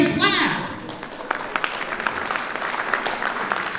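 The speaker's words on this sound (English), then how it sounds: "Don't raise your hand, clap." A comedy club crowd claps in response to a stand-up comedian's question about who has kids, scattered rapid clapping following a brief voice at the start.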